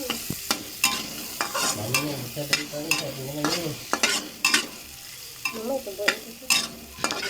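Onions fry in margarine for a Spanish omelette while a spatula scrapes the pan in sharp repeated strokes over a soft sizzle, with a faint background voice or hum between strokes.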